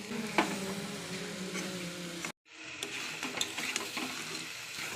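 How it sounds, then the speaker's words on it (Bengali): Mutton pieces frying and being stirred with spices in a pan, loud continuous sizzle with scraping stirs, briefly cutting out midway before resuming. "এবার মাংসটা দিয়ে দেবো"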